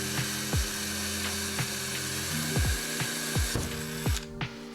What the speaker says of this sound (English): I drill a hole, stick a screw in and pull it out.